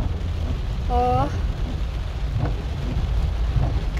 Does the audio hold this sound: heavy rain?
yes